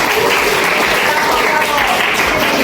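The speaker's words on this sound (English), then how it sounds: "come on, give applause to you" Applause from students in a classroom, a dense, steady clapping that fills the whole short stretch at close range.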